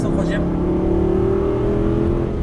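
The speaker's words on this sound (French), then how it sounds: "on met les gaz à fond" Aston Martin engine in the Actua GT racing game, revved hard at full throttle in third gear, a loud sustained drone holding steady for a couple of seconds with a brief higher burst at the start.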